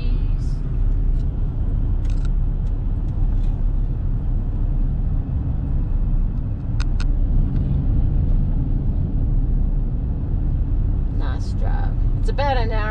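Car cruising along a road through the Lincoln National Forest toward Cloudcroft, a steady loud low engine and road rumble from inside the cabin, with occasional small clicks and rattles.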